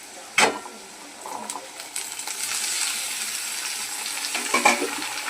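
Drumsticks, tomato and brinjal hit a hot pan with a sharp clatter, followed by a moderate frying hiss that builds and a second clatter near the end.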